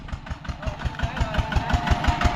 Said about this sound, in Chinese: 手扶拖拉机